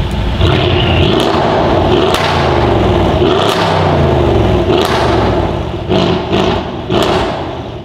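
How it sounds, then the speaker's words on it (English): A Mercedes GLE63S AMG with a decat exhaust accelerates hard, with turbo whistle: a loud, close, continuous engine roar whose revs climb and fall, punctuated by several sharp thumps toward the end. "You hear the turbos whistling, it's just so loud."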